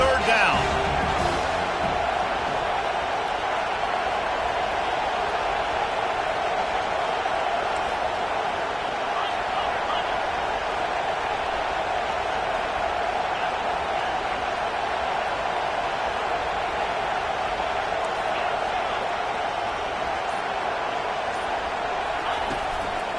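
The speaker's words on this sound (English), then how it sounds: "Here comes this home crowd as the defense tries to get off the field on 3rd down." Home crowd roaring steadily at an American football game on a third-down defensive stand, a dense, sustained wall of cheering and noise from a large stadium audience that holds loud and even throughout.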